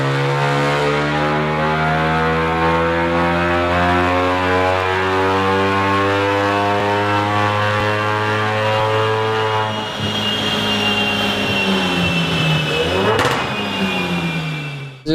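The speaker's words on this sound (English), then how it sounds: "We'll throw in a dyno clip too." A modded full-bolt-on Ford Focus RS engine runs hard on a Mustang chassis dyno, a loud sustained drone with steady harmonics that rise in pitch and shift near the end of the pull, with no talk over it.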